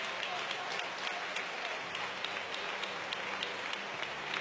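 Applause for a family at a church testimony service, a steady wash of many hands clapping throughout, moderately loud and even, with voices mixed in underneath.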